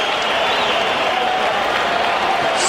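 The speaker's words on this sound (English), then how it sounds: "The crowd is on its feet in appreciation." A packed fight crowd rises to its feet applauding after six rounds between Forrest Griffin and Stephan Bonnar, a dense, steady roar of clapping and cheering that fills the whole stretch without a break.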